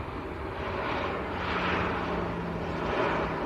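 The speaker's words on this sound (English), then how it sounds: "This is Ryanair from Santander. Whoa, big smoke. Boeing 738." Ryanair Boeing 737-800 jet at Manchester Airport giving a steady, loud broadband roar that swells slightly toward the middle, with no voices over it.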